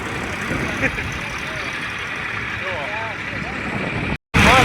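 A steady, rumbling tractor engine runs throughout, with people talking over the noise; the sound cuts out briefly near the end before resuming.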